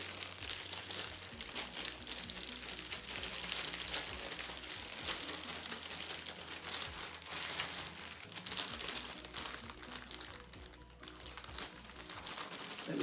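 A plastic bag of whey protein powder crinkles and rustles continuously as it is emptied into egg batter for keto fried chicken, a close, busy crackle over a low steady hum.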